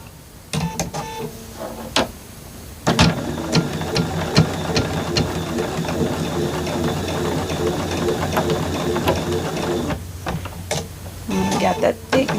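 A sewing machine stitching a seam on a quilt block, running steadily for several seconds between short pauses and handling clicks.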